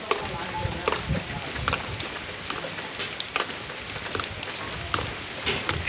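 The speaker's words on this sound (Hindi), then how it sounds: "बारिश धीरे धीरे अब स्लो हो रहा है।" Heavy rain pattering steadily on surfaces at a mining work camp, a dense continuous downpour with scattered louder drops, fairly close and loud, with no voices.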